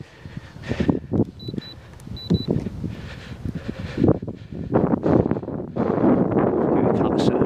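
Gusty wind buffets the microphone outdoors at a model airplane flying field where an FMS P-51B is flown as rain begins, with irregular rushing bursts that build to a constant roar by the end.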